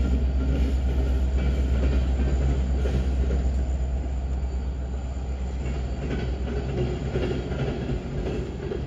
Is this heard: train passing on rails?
yes